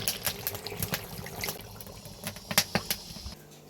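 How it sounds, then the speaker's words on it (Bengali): Water is poured into a cooking pot in a village kitchen, a soft splashing trickle running beneath light clinks and knocks. "এবার দিয়ে দিব জল"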